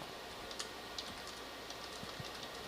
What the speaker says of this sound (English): I can hear a keyboard.